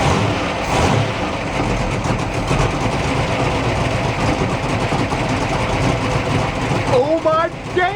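A race boat engine fires up after the fuel pump is switched on, a loud continuous rumbling roar with gritty low end that holds steady throughout, with voices calling out near the end.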